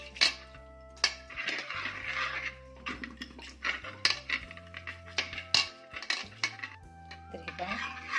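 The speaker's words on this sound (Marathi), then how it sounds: "आता हे रवीच्या साहाय्याने छान घुसळून घ्यायचं आहे." Cooked spinach and lentils being churned with a wooden churner in a pot, heard as close, irregular clinking and knocking against the vessel with soft splashy mashing between the knocks.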